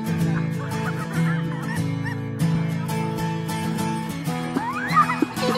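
Goose honks ring out repeatedly over a steady low engine drone, apparently aboard a boat, with several loud calls bunched in the first half and a rising cry near the end.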